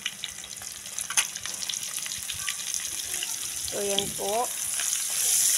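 Margarine melts over onion in a pan, giving a rising, steady sizzle and crackle with a few light clinks, while a voice speaks briefly.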